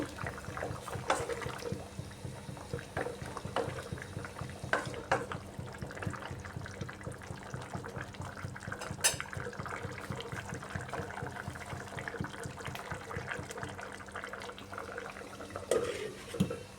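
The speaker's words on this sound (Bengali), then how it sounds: "এবার ভেজে রাখা মাছ দিয়ে দিচ্ছি মাছটা দিয়ে ঝুলটা আরেকটু সময় ফুটিয়ে নেব" Pieces of fried rohu fish sit in a papaya and potato curry simmering in a pot, giving a soft, continuous bubbling and gurgling at low volume with occasional faint clinks.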